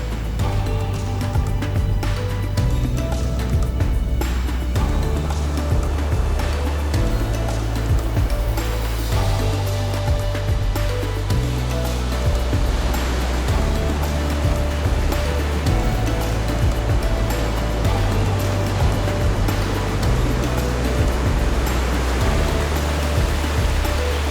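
Sea waves wash continuously onto an Albanian shore at dusk beside a beachside campsite, a steady, full surf roar with a low droning hum beneath it.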